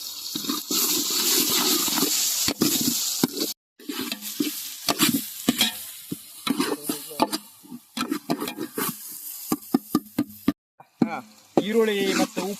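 Onions fry with salt in a pan while being stirred, giving a crackling sizzle broken by scraping and clattering utensil knocks, with speech at times over the cooking.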